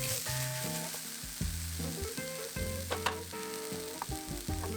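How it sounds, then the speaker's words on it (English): Diced garlic and sliced onions frying in a pan, a steady close sizzle with occasional stirring scrapes, heard under soft background music with no voices. "add in the diced garlic and sliced onions. Continue cooking until the onions start to caramelize"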